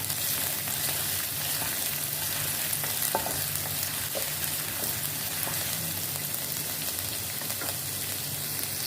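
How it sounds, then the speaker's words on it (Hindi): Steady sizzling of crushed garlic and ginger frying in hot oil, constant and close, with a few faint clicks of stirring. "लहसुन अदरक को हमने फ्राई कर लेना है।"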